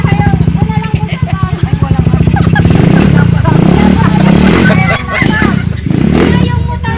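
A motorcycle engine runs close by, a steady rumbling putter that grows denser and louder partway through, with voices talking over it.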